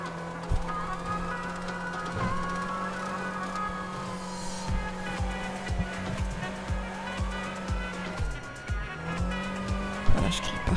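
A car races through traffic in GTA, engine roaring with repeated tire squeals and skids, loud and close, while voices talk over the driving.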